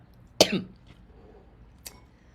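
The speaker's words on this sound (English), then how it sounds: "I cough a lot when I'm around that sage" A single sharp, close cough, followed a moment later by a fainter second cough in an otherwise quiet room.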